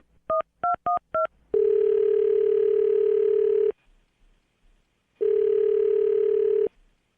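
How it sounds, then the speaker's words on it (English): Landline telephone keypad dialing a phone number: four quick DTMF tone beeps, then two long steady tones separated by a gap, loud and clear with no talking. "I'm going to dial her phone number right now."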